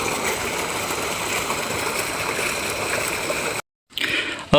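Irrigation water flowing steadily into a maize field, a continuous broadband rushing and trickling that holds for several seconds, then cuts out briefly before resuming with some closer splashing.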